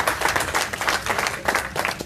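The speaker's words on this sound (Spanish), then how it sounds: "Dale un fuerte aplauso al Señor." Church congregation applauding after a blessing in a Spanish-language service, a steady wash of clapping that rises and falls in bursts over the whole span, fairly close and dense with no talk on top.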